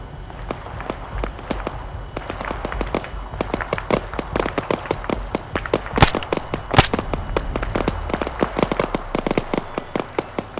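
Gunfire in the Arma 3 video game: rapid dense volleys of sharp shots crackle on without a pause, with a few louder, closer bangs among them.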